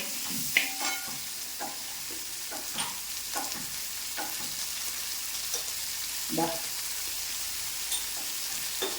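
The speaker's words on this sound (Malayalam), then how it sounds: "സവള മൂക്കാനായിട്ട് നമ്മൾ ഒരു പിഞ്ച് ഉപ്പ് കൊടുക്കുവാണ്" Sliced onions sauté in a pan with a pinch of salt, a quiet continuous sizzle overlaid by scattered spatula scrapes and taps spread across the stretch, close by and without speech.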